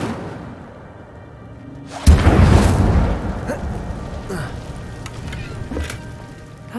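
An Incendio fire spell is cast in Hogwarts Legacy, bursting out as a loud whooshing boom that then trails off into a crackling, roaring rumble with scattered smaller pops.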